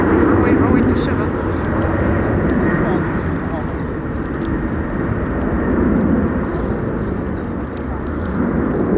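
On a windy day at Amsterdam Schiphol airport, an aircraft's engines give a broad, steady rumbling roar that swells and fades slightly. Wind buffets the microphone and a person talks underneath.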